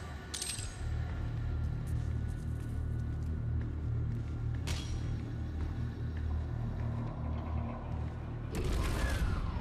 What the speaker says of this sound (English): The Doom door opening sound, very nice